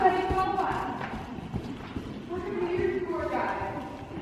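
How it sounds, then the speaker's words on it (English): Steady clip-clop of horse hooves in jump boots, a repeating rhythm under people talking nearby. "it's his jump boots making a sound"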